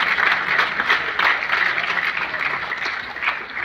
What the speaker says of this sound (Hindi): बहुत अच्छी तालियां एक बार मनोज मद्रासी जी के लिए बजाइए